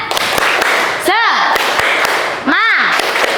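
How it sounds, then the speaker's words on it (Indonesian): A classroom of fourth graders claps together in a rhythmic cheer during a morning lesson, with sharp, close hand claps in a steady pattern broken by short, rising shouts from the children. "kita tepuk semangat dulu bersama-sama ya"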